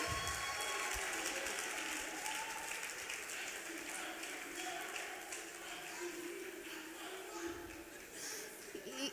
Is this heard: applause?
yes